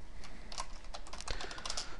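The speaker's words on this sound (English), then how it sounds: "I have to apologize if my typing is atrocious." Rapid typing on a computer keyboard while writing C++ code with the Qt framework: a close, continuous clatter of key presses with uneven rhythm and slight pauses, heard alone without talk.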